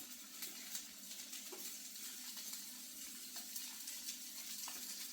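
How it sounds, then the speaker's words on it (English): A faint, steady sizzle with soft crackles from a pepperoni pizza cooking in a hot oven, heard alone and from a little distance. "I can hear it sizzling already."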